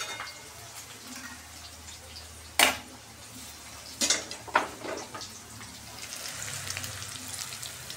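Hot tadka tempering poured over poha in a kitchen: a low sizzle with a few sharp clanks of a pan and spoon, then a brief swelling hiss toward the end.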